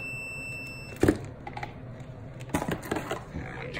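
A continuity tester testing a switch gives a steady high beep for just under a second, followed by a few clicks and handling knocks nearby, with no talking.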